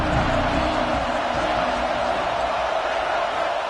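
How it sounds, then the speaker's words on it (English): A football stadium crowd roars in a dense, loud, steady wash of cheering and shouting that fills the whole stretch without a break. "This crowd rising up, sensing that its defense needs some help."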